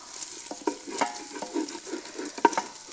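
Bacon fries and browns in the bottom of an Instant Pot, with soft steady sizzling and occasional scraping stirs of a utensil against the pot, fairly quiet and close.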